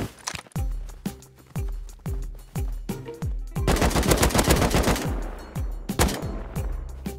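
An AK rifle firing in the Rust video game, loud and close: spaced single shots, then a fast sustained automatic burst, then more single shots with ringing tails.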